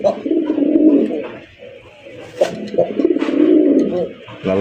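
A Raj Golla pigeon, a red pigeon with a white breast, gives two rolling, throaty coos close by, separated by a short pause. Faint background noise runs underneath.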